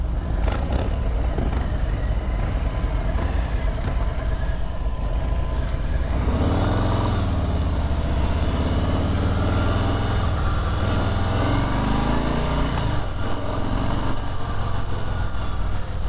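A 2018 Harley-Davidson Street Bob motorcycle engine rumbles steadily on a test ride, loud and close, with a deep continuous drone that climbs and falls in pitch as the rider works through the gears, mixed with wind noise.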